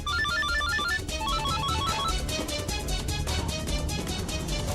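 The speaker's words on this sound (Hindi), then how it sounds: "इतनी रात गए, किसका फोन है विभू?" A telephone rings late at night in a home drama scene, repeated electronic ringtone bursts sounding clearly and continuously over faint background music.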